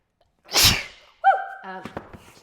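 A single sharp sneeze bursts out close by, followed by a brief vocal sound and a bit of murmured speech.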